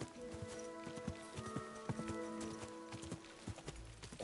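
Steady clip-clop of horse hooves in a fast, rhythmic gallop in Kingdom Come 2, close and continuous over a tonal background drone.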